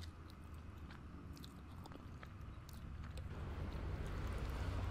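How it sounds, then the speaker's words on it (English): Close, wet chewing and crunching of food, steady and fairly loud against a constant low background hum. "Why am I chewing so loud?"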